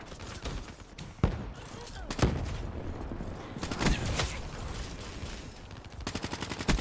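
Rapid gunfire from a Stango gun in a video game, with repeated sharp shots and a fast rattling burst near the end over busy, moderately loud game noise.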